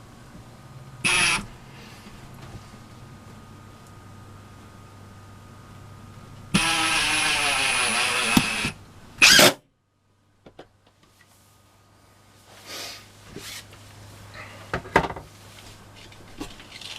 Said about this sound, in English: We'll just get this level, and we'll screw in this other one.